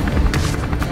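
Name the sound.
cartoon helicopter shutting down and falling to the ground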